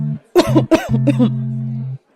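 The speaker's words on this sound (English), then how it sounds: "Jamie picks it up and drinks it, coughing, almost spilling his drink." A few short, harsh coughs in quick succession after a strong drink, close and fairly loud, followed by a strained, voiced throaty sound.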